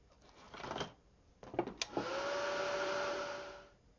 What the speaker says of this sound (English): So first let me heat set it.